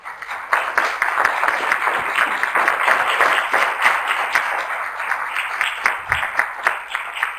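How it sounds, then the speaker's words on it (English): A public meeting audience gives a round of applause for the panelists, loud, close, sustained clapping with distinct individual claps standing out, tapering slightly toward the end. "give our panelists a round of applause"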